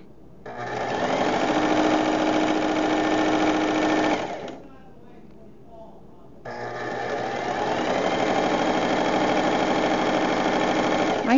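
A sewing machine stitches a fabric guinea pig cozy in two long, steady bursts of rapid mechanical clatter, close and loud, separated by a short pause of near-silence.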